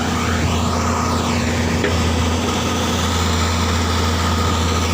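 Komatsu PC120-3 excavator engine running steadily, a loud continuous droning hum with a constant low throb and no pauses, close by at a site loading laterite gravel into a dump truck.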